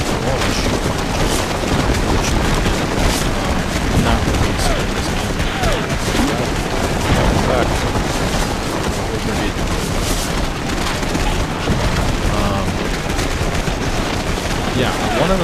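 Rifle fire from a Civil War battle in the game Take Command: Second Manassas, dense continuous crackling volleys and booms layered into a loud, unbroken roar of battle.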